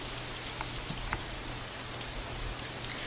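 Steady rain in the visual novel Katawa Shoujo, a quick shower coming down harder, hisses evenly and softly throughout with scattered individual drops ticking on surfaces.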